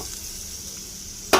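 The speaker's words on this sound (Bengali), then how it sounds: "মশলার সাথে আলু কষিয়ে নেব।" Boiled potatoes frying with spices in a pan give a steady, fairly loud sizzle, ending in a brief sharp stirring scrape.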